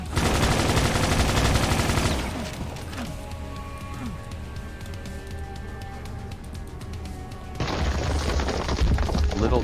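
A machine gun fires in the GZDoom mod Extermination Day: a loud, rapid, continuous burst for about two seconds, a quieter gap with scattered game noises, then another sustained burst near the end.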